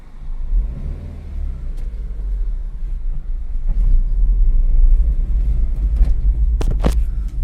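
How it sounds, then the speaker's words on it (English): A first-generation Maruti Suzuki Swift with a G13BB engine pulls away, its low engine rumble building as the car starts driving, heard from inside the cabin with a few brief clicks and knocks near the end. "let me just start driving right away"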